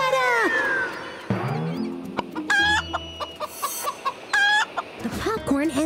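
A cartoon chicken in a children's animated show squawks and clucks in loud, bursty, exaggerated calls, with lively music and character voices woven around them.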